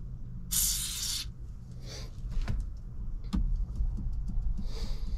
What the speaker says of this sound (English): I'm gonna spray the back side of that one too.